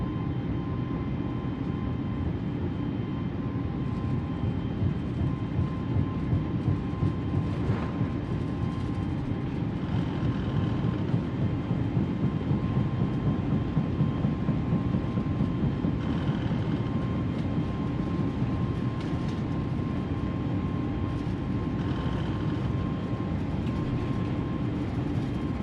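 Airbus A320 engines at flex takeoff thrust in Microsoft Flight Simulator make a loud, steady roaring drone with a faint high whine running through it, sustained without a break.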